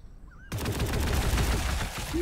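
A Tech Priest opens fire in Warhammer 40k: Gladius and a burst of rapid gunfire breaks in suddenly after a quiet moment. The shots go on as a loud, dense, rattling volley.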